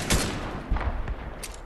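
Bursts of automatic gunfire in a Fortnite battle, several rapid volleys with a sharp crack near the start, a denser cluster in the middle and a smaller burst near the end, fairly loud and close.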